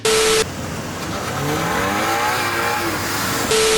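A new car's engine revs up through a Remark exhaust, its pitch climbing and falling over a few seconds, with louder noise bursts at the start and end.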